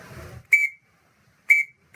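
Three sharp, high whistle blasts in Adjahoui music, each marking the start of a new event in the song, separated by clear gaps after a short stretch of mixed background sound.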